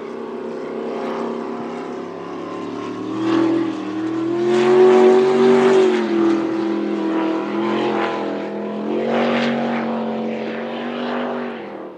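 A twin-turbocharged race boat running on the water during practice at the Windsor Spectacular, its engine droning loudly with a rising and falling tone as it passes, no talking over it.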